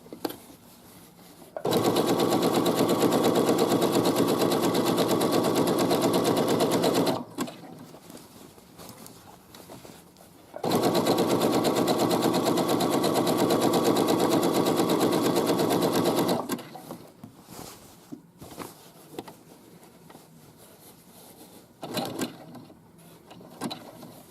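A sewing machine runs a zigzag stitch along a side seam in two long, even bursts of rapid rattling needle action, separated by quiet pauses with brief handling noises.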